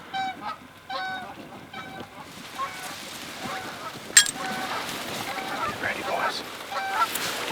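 A big flock of geese honks during a field goose hunt in Montana, repeated nasal calls that start clear and nearby and then thicken into an overlapping chorus, with a sharp knock partway through and faint voices underneath.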